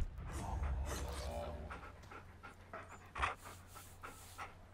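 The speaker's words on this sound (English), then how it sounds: "he's literally like a little dog" A tamed beast in the video game Far Cry Primal pants in quick, steady breaths like a dog, close and fairly loud at first, then fading to softer huffs with a brief thump near the end.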